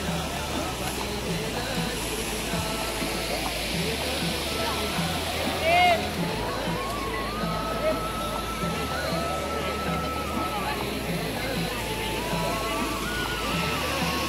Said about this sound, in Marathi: मस्त स्वच्छ पावसाचं पाणी आणि वाहती नदी आहे